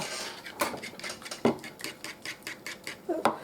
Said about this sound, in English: Now I'll just stir this up.